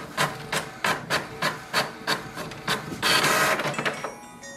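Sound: HP Envy 6032e printer printing information page

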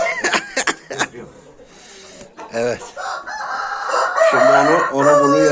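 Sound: rooster crowing

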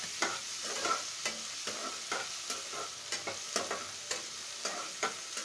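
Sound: frying onion and tomato in a pan for rice rava upma

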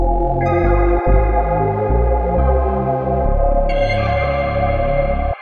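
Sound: synthesizer with reverb and amp effects, future garage production

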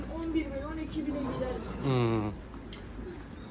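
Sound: pigeon cooing

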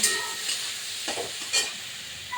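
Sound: stir-frying prawns with ridge gourd paste

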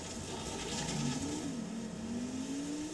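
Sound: car driving in Transformers Revenge of the Fallen video game

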